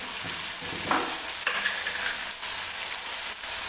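Precooked chickpeas for a dry curry sizzle in a pan while a spoon stirs and scrapes through them in irregular strokes, close and steady with no talking.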